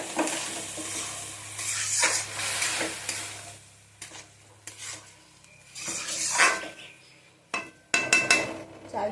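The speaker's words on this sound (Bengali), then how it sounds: "চালটা একটু নেড়ে নিয়ে তারপরে জল দিতে হবে।" Rice being stirred in a pot for sweet pulao, with uneven bursts of scraping, sizzling and metal clatter that alternate with quieter gaps.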